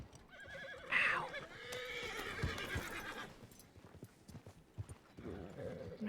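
A horse whinnies loudly near the start with a rising, shrill neigh, then snorts and shifts amid clip-clopping hooves and stable noise, with a few faint voices in the background.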